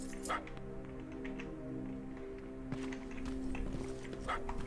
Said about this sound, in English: I hear a doggy.